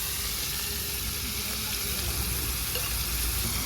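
Butter and paneer pieces sizzling in a pan while paneer chole cooks, a loud, steady frying hiss that fills the whole stretch without a break.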